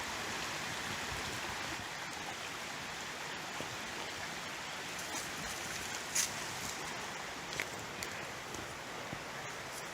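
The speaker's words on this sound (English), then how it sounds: "The water makes different sounds as you walk. Here it's just like babbling brook." Steady babbling brook water running beside a mossy hiking trail at Little Falls in Promised Land State Park, Pennsylvania, a continuous broadband rush with a few faint clicks and no talking.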